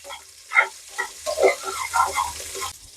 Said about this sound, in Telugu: ఆనియన్ రెడ్డిష్ బ్రౌన్ కి వచ్చేంత వరకు దోరగా వేయించుకుందాం